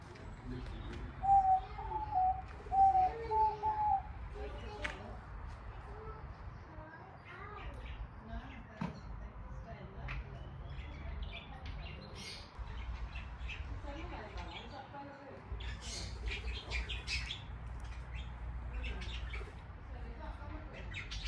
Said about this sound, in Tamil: அந்த லவ் பேர்ட்ஸ் மாதிரி கிளி அப்படியான பறவைகள் இருந்தது.